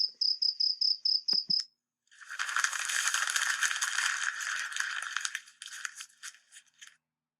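A cricket chirps in a quick run of about eight sharp, evenly spaced pulses, then stops. A longer burst of dry rustling, crinkling noise follows.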